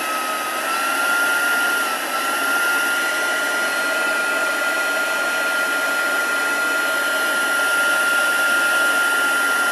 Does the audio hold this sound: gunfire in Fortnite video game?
no